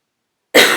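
A close, loud cough bursts out after a half-second of silence, from someone who has just choked on coffee, a single harsh rasping fit.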